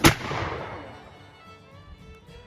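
A single loud militia musket shot fired on command, one sharp blast at the very start followed by a long rolling echo that fades out, with a faint second pop at the end.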